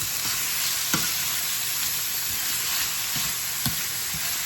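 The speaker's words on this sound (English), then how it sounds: "I'm going to allow this to fry them for 2 minutes guys" Thin-cut chicken breast fries in a pan with a steady, even sizzle, punctuated by a few soft pops and light utensil taps, with no talking.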